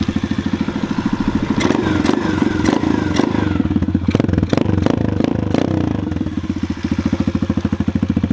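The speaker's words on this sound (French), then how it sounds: "On va démarrer les deux motos" Loud, close 125cc motorcycle engines, including a SMX 125cc RFZ, chugging at idle with rhythmic pulses as they start and warm up, interrupted by clattering and revving bursts mid-way.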